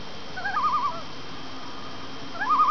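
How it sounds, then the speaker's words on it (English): A spotted sandpiper calls twice near a Vermont lake, each a short clear warbling whistle standing out against quiet outdoor background noise. "Right now we're hearing a bird here. It's a spotted sandpiper."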